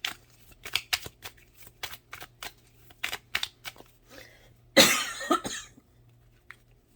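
Tarot cards riffled and shuffled in a quiet room, a run of short crisp flicks and taps followed by one louder burst of card noise, then a brief scatter of quieter snaps.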